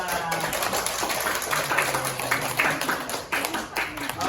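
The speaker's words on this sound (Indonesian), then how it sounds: "Tepuk tangan buat kelas 2." A classroom of children claps for class 2, a steady patter of hands running throughout with voices talking over it.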